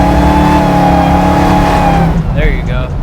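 Hellcat-swapped Plymouth Cuda pro-touring build with a supercharged engine revs hard and loud up close, its tone climbing with a high blower whine before the engine note drops away, with voices talking over it.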